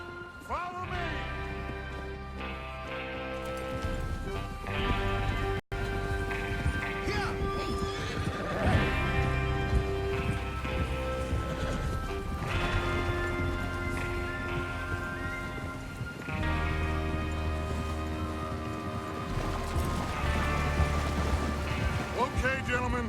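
Horses neigh and hooves clip-clop in Red Dead Redemption 2 over a dense, continuous game soundtrack, with whinnies breaking through at intervals and a voice talking in places.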